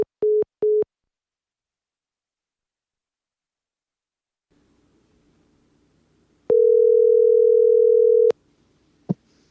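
A telephone lying on a bed gives two short beeps, then a long steady dial tone of about two seconds and a final click, all clear and loud against near silence.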